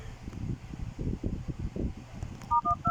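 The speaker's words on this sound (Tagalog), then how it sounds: "dial lang natin asterisk 121 number sign" A phone keypad sounds short DTMF dialing beeps while *121# is entered on a TNT SIM, a quick run of clear tones near the end over low rustling handling noise.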